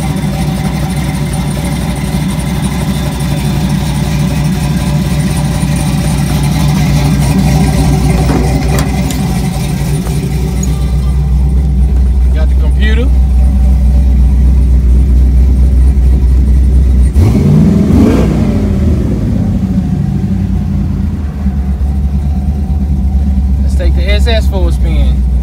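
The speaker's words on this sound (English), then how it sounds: "We're gonna take the SS out for a spin today." A Chevrolet SS with a 5.3 V8 rumbles close by at a steady, loud drone. Its low engine note shifts as it revs partway through, with talk over the top.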